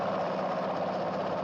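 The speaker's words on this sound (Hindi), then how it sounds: "डैडी, ये इंजन में से नई आवाज क्या आ रही है?" A car engine idling in a 1973 Hindi film scene, a steady continuous rumbling drone with no change in pace, moderately loud and alone.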